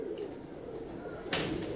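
Lal Pari pigeons, a cross of dove and teddy breeds, give low, throaty coos close by, with a brief sharper flutter or rustle near the end.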